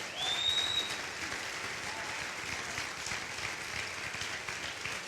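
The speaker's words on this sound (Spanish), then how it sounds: "Vamos, denle un aplauso al Señor." A church congregation applauds in a steady, dense wash of clapping that carries on through the whole stretch, with a brief whistle or squeal near the start and faint voices mixed in.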